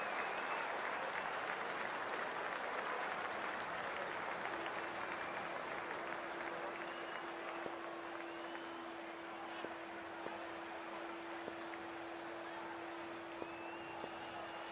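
A large cricket crowd applauds in the stadium before the first ball of an IPL match between Chennai and Rajasthan, a dense, steady wash of clapping and crowd noise that lasts throughout, with a faint sustained tone running underneath.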